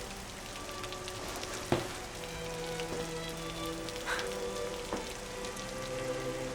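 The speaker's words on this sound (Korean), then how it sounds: "근데 오늘 이렇게 비가 오는데 상민이가 우산 없어서 비 맞을지도 모르잖아" Steady rain falls on a film set, a dense even patter with a few sharper drops and knocks scattered through it. It stays fairly quiet and continuous, and nobody speaks.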